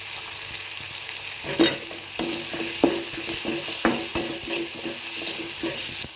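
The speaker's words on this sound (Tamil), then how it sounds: "இதை கூட உப்பு போட்டு நல்லா வதக்கிக்கலாம்" Onion and tomato frying with salt in a pan for a fish curry, a steady sizzle broken by repeated stirring scrapes and clinks at a close, even level, with no talking.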